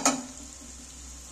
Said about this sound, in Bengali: এইবার আমি আবারও মশলাটাকে ফের কষিয়ে নিচ্ছি